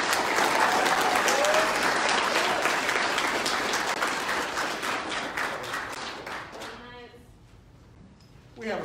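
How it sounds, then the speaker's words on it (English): Applause for a JROTC cadet at a military awards ceremony: brisk, crowded clapping with a voice or two over it, then tapering to a few claps before a brief burst at the very end. "Let's give her another round of applause."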